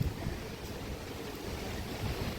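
Steady wind rushing over an open hilltop, a continuous low roar buffeting the microphone from start to finish with no pauses.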